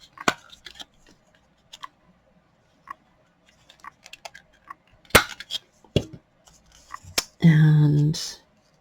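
Scissors trim the paper edge of junk journal tabs with scattered sharp snips and light paper handling, close and fairly quiet, and a voice is heard briefly near the end.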